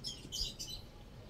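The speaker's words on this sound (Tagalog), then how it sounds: "Naririnig niya yung mga ibon dito sa hawlay" Birds calling near a cage holding a captured yellow-faced bird, with short, faint chirps and tweets over low outdoor background noise.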